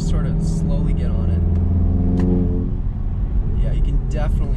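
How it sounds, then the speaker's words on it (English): A car fitted with an APR intake and turbo inlet pulls slowly in 4th gear from about 45 mph, its engine drone rising steadily with a whooshing intake note, loud and close inside the cabin. "we'll put the car in 4th gear. We're going about 45 miles per hour, and we'll just sort of slowly get on"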